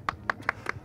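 Five or six sharp hand claps in an even rhythm, close by but faint, standing alone without talk.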